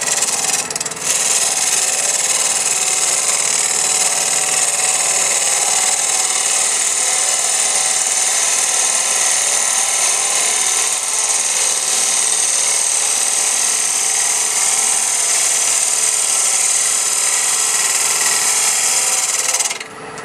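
A lathe cuts across the face of a headstock handwheel, giving a steady, bright scraping whine that holds evenly for the whole stretch, close and fairly loud with no talk, then stops abruptly at the end.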